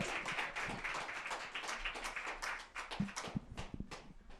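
Audience clapping and applauding at a Sacred Voices open mic: a steady, moderately faint patter of many hands with scattered louder claps, continuing throughout.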